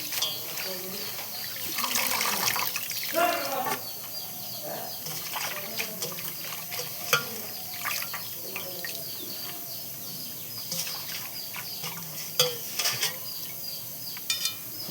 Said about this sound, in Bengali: আমি এখন আমি শাকটি ধুয়ে নিতেছি ভালো করে